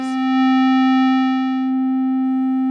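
A sustained tone from a Neuzeit Instruments WARP synthesizer plays loud and steady for nearly three seconds, a pure pitch with faint overtones and a brief bright attack at the start.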